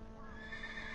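A horse in a video game gives a short, faint whinny, a quick rising neigh lasting about a second with no voices.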